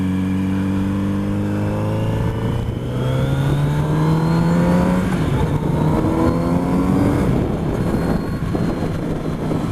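Kawasaki Z900RS motorcycle engine while riding, a loud steady drone with rising pitch through gear changes and wind rush, no voices.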